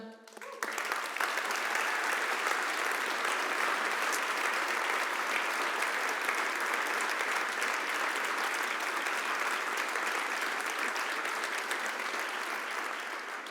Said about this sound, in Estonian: Nii et suur aplaus veel kord meeskonnale.